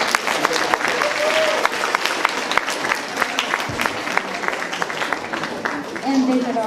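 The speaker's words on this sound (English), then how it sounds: "Give them a round of applause." An audience at a 6th grade promotion and awards ceremony bursts into sustained applause, dense clapping filling the room at a steady level, with a few voices murmuring through it.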